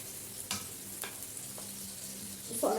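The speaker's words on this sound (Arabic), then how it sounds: "اقلب البصله كده، اقلب البصل مع بعض" Onions sizzle steadily in a hot pan as a utensil stirs them, with a few light scrapes against the pan over the constant frying hiss.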